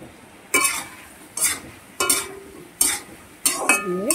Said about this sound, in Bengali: দিয়ে ভালো করে কষাবো